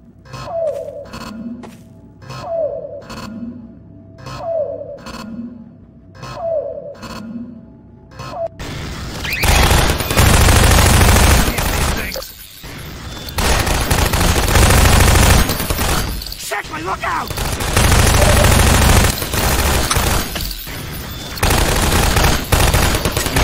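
Automated turrets fire in Half-Life 2: Episode Two. Spaced mechanical pulses lead into long, dense, loud bursts of automatic gunfire mixed with impacts and crashes.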